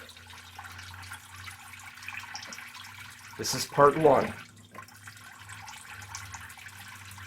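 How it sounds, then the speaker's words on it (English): Water pours over the rim of a container during homemade fire-log making, a brief splashing gush of a second or so that stands out between quieter stretches with a low steady hum and a short spoken line. "it's okay if the water comes out over the top like you see it"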